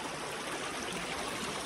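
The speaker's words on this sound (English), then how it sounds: "There's a little bit of a pool. I'm just gonna kind of walk through it." Feet wade through a shallow, ankle-to-shin-deep pool in a canyon, producing a continuous splashing, rushing water sound, close and steady, with no speech over it.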